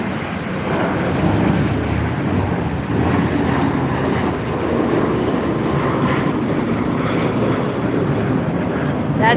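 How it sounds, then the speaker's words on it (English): An Asiana Airlines Airbus A380-800 passes at LAX with a loud, steady jet roar that holds evenly throughout, with a faint wind rumble underneath. "That's the Asiana Airlines Airbus A380-800."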